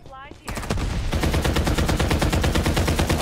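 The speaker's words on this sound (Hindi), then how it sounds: "अबे भाई कहां जा रही गोलियां" Rapid automatic gunfire in the battle royale video game Farlight 84, a loud sustained burst of closely spaced shots starting after a brief lead-in and continuing without pause to the end.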